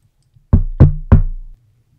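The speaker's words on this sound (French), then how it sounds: "On frappa à la porte" Three firm, evenly spaced knocks on a wooden door, loud and close, with a short ringing decay after each and quiet before and after.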